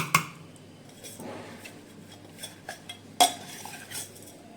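A spoon clinks against a glass or bowl a few times while oats are spooned into mango pulp, giving light, close taps and soft scrapes with quiet pauses between them.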